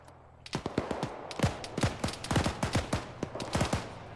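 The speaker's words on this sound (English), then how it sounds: "I just heard a gunshot anyway" Arma 3 gunfire in a Soviet-Afghan War scenario: a rapid series of sharp shots in uneven bursts, some near and punchy, others quicker like automatic fire, with no talk over them.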